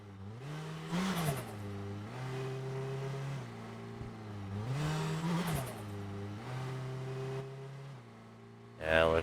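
A car engine in the video game Drive Beyond Horizons revs up and then drops pitch as it repeatedly downshifts on its own, a steady droning hum with a sharp burst near the end.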